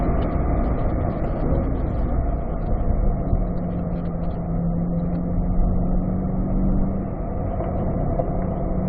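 A C8 Corvette lapping the Spring Mountain racetrack, a steady loud in-cabin engine drone and road rumble with a brief dip in throttle near the end.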